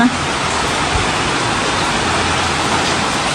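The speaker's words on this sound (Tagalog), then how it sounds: "Malakas po ang ulan." Heavy rain pours steadily outside a home, a dense, even wash of noise at close range with no breaks, while people talk over it.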